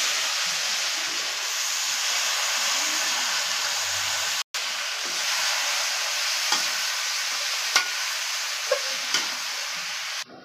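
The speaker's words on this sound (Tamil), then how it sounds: "நம்ம வந்து சிக்கனை போட்டுக்கலாம்." Chicken frying on a tava with turmeric and onions, a dense, even hiss of sizzling oil held steady and close, with a brief cut partway and a few faint clicks of a utensil later on.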